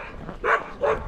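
A dog near a Tennessee Walking Horse barks at a fence, giving two sharp, close barks about half a second apart over faint background noise.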